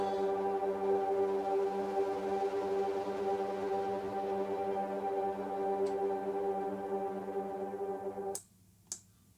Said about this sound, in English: Some evolving distortion on this one.